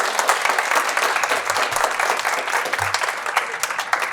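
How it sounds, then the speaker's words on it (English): Audience at a Cesar Chavez sponsor dinner applauding an award winner, with steady, fairly soft clapping from a crowd lasting several seconds. "Please give a round of applause for Sarah."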